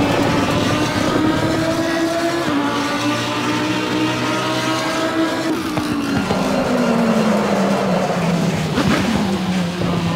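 A race car engine in the video game Assetto Corsa Competizione roars loud and close, holding high revs and shifting pitch up and down through gear changes, with no talk over it.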